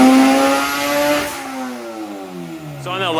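A fully built LS-swapped VTEC Honda Civic engine at full throttle during a boosted high-horsepower pull, close and loud, with harmonics climbing then falling as the revs drop and a short rising rev at the end; no talk.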